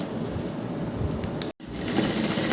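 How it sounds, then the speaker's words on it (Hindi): A sewing machine runs steadily, stitching long pleats into a strip of fabric to form a frill, with a continuous close whir that cuts out for an instant and then resumes. "अब हम दूसरी तरफ इस तरह से इस पर बड़ी सिलाई लगाते हुए हम इस पर प्लेट्स डाल देंगे।"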